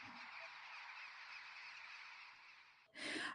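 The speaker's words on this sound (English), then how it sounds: "Oh, here we have our bird sounds." Bird sound effects playing in an Unreal Engine game level, heard as a steady, moderately loud bright chirping texture that continues throughout, with a sharper, louder burst near the end.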